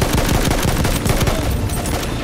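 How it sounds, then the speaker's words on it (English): Dense video-game gunfire on the Soissons map, rapid overlapping shots and machine-gun bursts coming from behind, loud and continuous with no talk over it. "I'm getting shot from the back"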